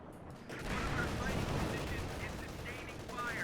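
Tank cannon and machine-gun fire in a Company of Heroes 2 battle, a steady dense rattle of shots with rumbling blasts, mixed and continuous over background battle noise.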